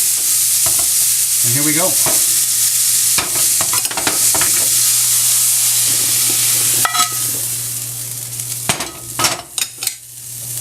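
Asparagus fries in a pan with a steady sizzle while a utensil stirs it, scraping and clinking in short bursts near the end, and a brief spoken phrase comes early on.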